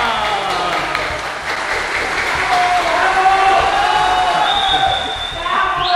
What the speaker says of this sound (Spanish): un aplauso fuerte a mi tocaya